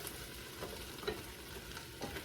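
Potatoes stirred in a hot pot without a non-stick coating, a steady scraping and sizzle close up with soft clinks, no voices.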